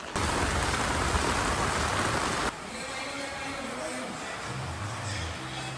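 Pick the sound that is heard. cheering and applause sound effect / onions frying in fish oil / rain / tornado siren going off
rain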